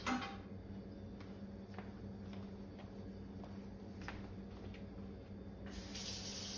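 A tap runs steadily into a sink, a constant watery hiss with faint splashes, moderately quiet and close, with no one speaking.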